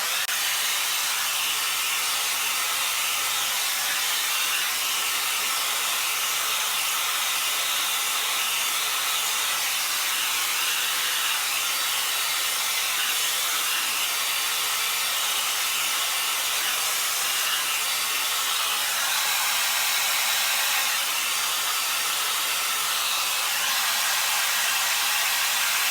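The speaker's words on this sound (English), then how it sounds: "have your blow dryer and brush a little distance apart and kind of just have them follow each other" Hair dryer blowing hair dry over a round brush, a loud, constant close-up airy roar that continues unbroken for almost half a minute.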